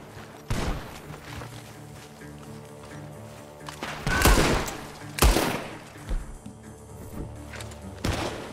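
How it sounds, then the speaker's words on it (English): Gunfire rings out from a barn in Red Dead Redemption 2: several loud, sharp shots at irregular intervals, some in quick bursts, over a steady low background. "Gunshots are coming from that barn!"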